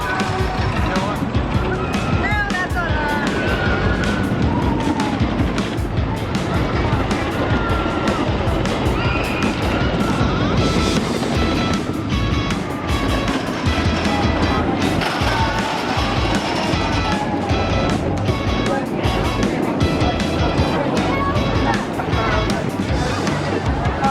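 Riding the Thunderbolt roller coaster at Kennywood: a loud, continuous rumble and rattle of the cars on the track, with wind and riders' shouting mixed in throughout.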